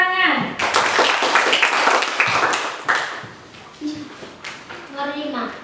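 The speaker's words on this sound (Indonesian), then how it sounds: "Kita tepuk tangan." A primary school class claps hands together in a classroom, a dense burst of many children's claps, with voices of the teacher and children talking around it.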